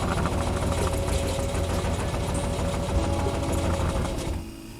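A sewing machine runs steadily, stitching a strip of plastic cut from a bottle into the fold of a boat cover under repair after Hurricane Ian; a loud, even mechanical whir that stops abruptly near the end.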